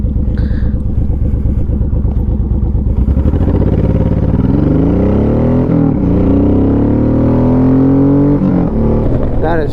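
Honda VTX 1800 motorcycle fitted with a K&N air filter, engine note climbing steadily as it accelerates hard, loud and close, a deep rumble rising in pitch over several seconds with a brief dip between gears.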